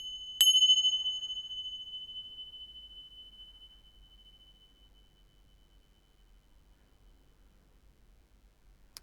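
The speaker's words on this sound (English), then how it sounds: "I'm just going to use my little bells and we'll just get some clearance to start the reading" A small bell struck once, leaving a clear, high metallic ring that fades slowly over several seconds in a quiet room, with a faint second strike at the very end.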